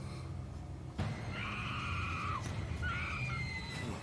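A horror scream from the TV show Supernatural: two high, strained wails, the first longer than the second, rising over a low humming background.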